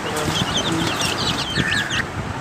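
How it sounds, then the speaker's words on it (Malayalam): Native egg-laying hens, six to nine months old, cluck and chatter close by in a farm coop, a dense stream of overlapping calls with a few sharper squawks standing out. "ഇതെല്ലാം മുട്ടയിടുന്ന കോഴികളാണ്"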